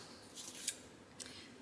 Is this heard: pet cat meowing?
no